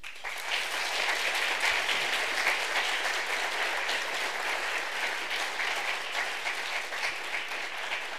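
An audience at the Travill Debate 2017 at Queen's University School of Medicine applauds steadily, the sustained clapping of a large crowd continuing at even strength for several seconds with no talk over it.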